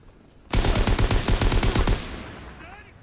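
Rapid automatic gunfire in the World War II shooter Call of Duty WWII, a loud close burst of evenly spaced shots lasting about a second and a half before trailing into a fading echo, with no voices.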